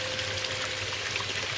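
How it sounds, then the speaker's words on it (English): Water pours steadily from a pond cyclone filter, a constant close rushing trickle and splash with a faint mechanical hum beneath, unbroken throughout. "hopefully we'll see water coming out the Cyclone filter"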